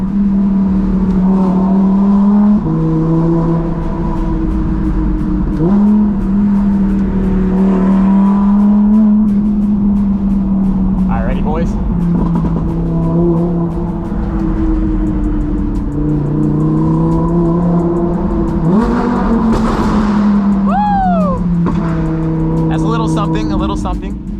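An Audi R8 driving at night, its loud engine droning and burbling through gear changes with rising revs, close and steady throughout, with a few brief whistling tones.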